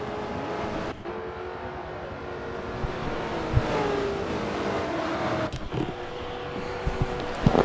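Race cars roar around a track in a steady, continuous drone, with engines rising and falling as cars pass and a few sharper revs toward the end.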